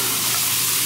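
Carrots hit a hot pan for Japanese curry, giving a loud, close, steady sizzle and frying hiss that fills the short moment without any voices.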